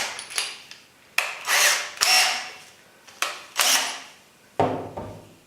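A power drill bores a larger hole through a model railway baseboard for a point motor arm, running in short repeated bursts of whirring and grinding at close range, with no talk.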